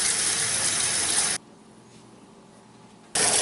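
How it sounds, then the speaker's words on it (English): Tap water gushes into a pot being filled for canning potatoes, a loud close rush that cuts off abruptly for about two seconds, then starts again. "get your water started so you don't have to wait for that"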